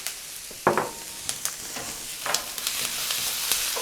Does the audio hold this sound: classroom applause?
no